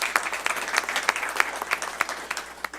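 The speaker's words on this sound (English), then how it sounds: "I think that deserves a round of applause." Audience applause at a school board of trustees meeting, a modest roomful of steady, crisp handclaps heard close and clear, short and even throughout with no talking.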